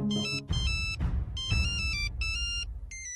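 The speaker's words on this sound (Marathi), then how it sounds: "त्या भैयांचा कशाला फोन येतो?" A telephone plays a melodic ringtone for an incoming call, bright repeated tonal phrases broken by short gaps over a low rumbling background, loud and close throughout.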